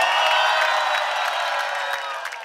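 At an amphitheatre rap gig, the crowd keeps up a dense, continuous roar of screaming, cheering and clapping, slightly softer and more distant-sounding, with individual shouts poking through.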